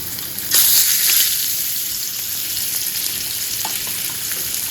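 Fish fry in a pan with a loud, steady close sizzle that flares briefly near the start, joined by a few faint stirring clicks and no talking.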